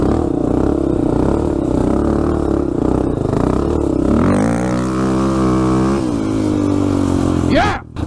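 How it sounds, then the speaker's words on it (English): An ATV 400 with an HMF Comp Series exhaust revs up loudly and close, the engine pitch climbing and holding through several surges before dropping off, outdoors in the woods. "I think this is the best sounding exhaust you can put on a 400. These HMF Comp Series, they are the best."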